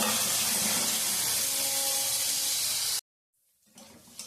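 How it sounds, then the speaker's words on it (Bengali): Vegetables with cashews and slit green chillies fry in a pan with a loud, steady sizzling hiss that cuts off abruptly after about three seconds, leaving quieter kitchen sounds. "সব কিছু ভালোভাবে ভাজা হোক।"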